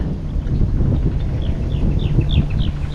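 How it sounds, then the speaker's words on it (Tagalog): Wind buffets the microphone in a steady rumble outdoors on a fishing trip, with faint chirping bird calls scattered above it. "Alam, mahangin na po."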